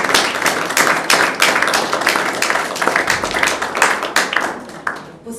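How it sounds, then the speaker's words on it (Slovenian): An audience at the opening of an art exhibition gives a big round of applause, dense overlapping clapping with distinct sharp claps that carries on steadily for several seconds and then fades toward the end. "Dajmo še en velik aplavz"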